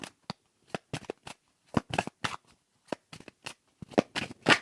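Tarot cards being shuffled by hand for a reading, a run of crisp riffling bursts and slaps in an irregular rhythm, close and clear with no talk.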